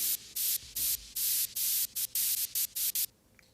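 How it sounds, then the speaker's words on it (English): Bursts of loud hissing white noise in an electronic music kick and bass drop, chopped into a rhythmic gated pattern, pulsing on and off in short and long blocks before cutting out. "Finally, there's some white noise."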